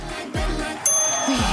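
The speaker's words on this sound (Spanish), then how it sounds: "Toca el timbre." On a talent-show stage, a chicken rings a small bell, giving a single bright ding. Low thumps and stage noise come before it, and the ding rings on briefly.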